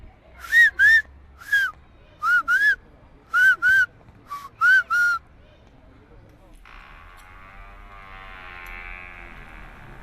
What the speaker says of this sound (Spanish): me gusta el silbo porque es una buena manera de comunicarnos y es el símbolo de La Gomera